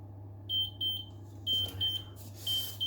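Oven timer beeping while sourdough bread bakes, a rapid series of high, thin beeps in repeated groups over a steady low hum from the oven.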